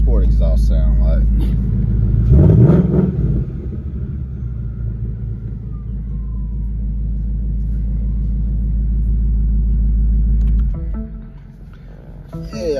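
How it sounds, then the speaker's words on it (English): A 2024 Ford Mustang Dark Horse V8 with sport exhaust idles with a deep, loud rumble, then gives one sharp rev that swells and settles back to a steady idle before cutting out. Someone speaks at times. "Let's see what sport exhaust sound like."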